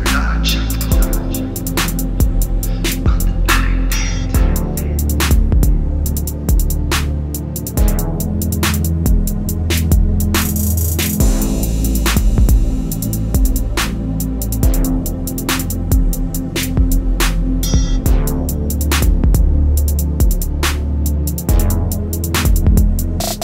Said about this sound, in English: And now we created an 8-bar loop that sounds like this.